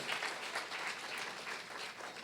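Church congregation applauding, a dense, steady wash of many hands clapping together, heard from some distance and moderately quiet.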